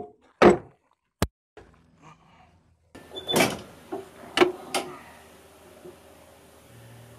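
The rear door of an M113A1 armored vehicle is latched and pushed shut, giving several sharp metallic clanks and thunks with quieter rattles between them, close and isolated.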